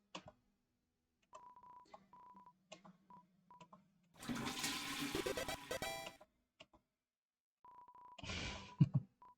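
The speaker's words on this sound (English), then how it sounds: "You flush the toilet." A toilet flushes in the video game Deltarune: a loud rushing burst of roughly two seconds, framed by short electronic menu blips and followed by a second brief splashy gush.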